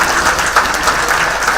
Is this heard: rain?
no